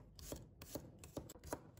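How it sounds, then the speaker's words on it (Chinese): Knife slicing garlic cloves on a cutting board, four crisp, evenly spaced chops in quick rhythm, close and quiet with no voices. "再准备1把大蒜， 把它切成片"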